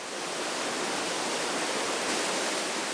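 Pumped water filling the upper reservoir tank of a water park wave pool, a loud, constant rushing roar with no pauses, close by and heard alone.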